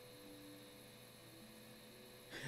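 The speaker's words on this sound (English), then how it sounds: "That's my GPU fan. It is loud." A computer GPU cooling fan whirs steadily with a constant tonal hum and airy hiss, close and moderately loud, ending with a brief noise burst.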